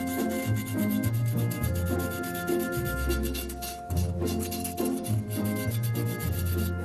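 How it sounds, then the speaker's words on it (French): Excess filler is sanded off a vase piece by hand, with continuous close scratchy rubbing strokes in an uneven back-and-forth rhythm. "Le ponçage est terminé."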